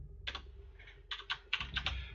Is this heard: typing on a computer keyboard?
yes